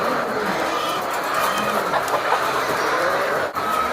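Layer hens cluck and murmur together in a large poultry farm shed, a dense chorus of overlapping clucks with a steady background hum, close by and fairly loud, with no speech.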